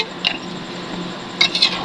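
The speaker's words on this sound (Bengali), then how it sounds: "আবার একটু নেড়ে দিচ্ছি।" A spoon stirs a pot of chicken curry with water just added, scraping and clinking against the metal in two brief bursts, close by, with a low steady background hum between them.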